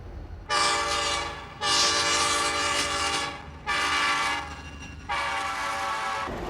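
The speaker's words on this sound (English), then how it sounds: "this is a typical locomotive like you'd see hauling freight" A diesel freight locomotive sounds its horn in four long, loud blasts separated by short gaps, over a low rumble of the passing train.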